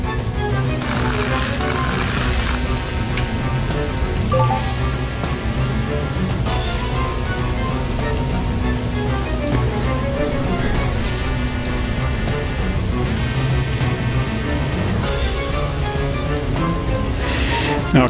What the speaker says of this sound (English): with the rain falling in the forest and all